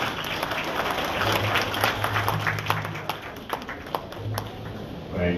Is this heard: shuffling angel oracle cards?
no